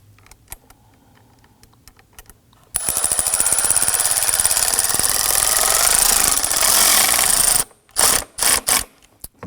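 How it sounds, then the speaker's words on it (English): A ratchet on a long extension snugs down a hose clamp deep in the engine bay of a 2003-2014 Volvo XC90, a rapid dense clicking burst lasting several seconds, then a few short separate ratchet bursts after a pause. "We're going to use our long extension to get down there and tighten up our hose clamp."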